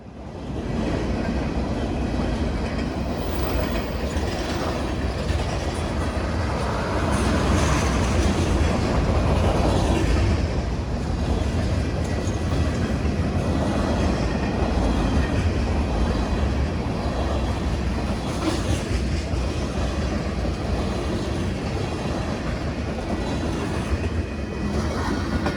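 A freight train with CSX locomotives rumbles past in the Arkansas Delta, a loud, continuous low roar with steady clickety-clack of wheels on rail that lasts throughout with no talking.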